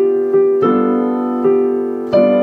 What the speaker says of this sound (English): And then you could play the G as a dominant seven.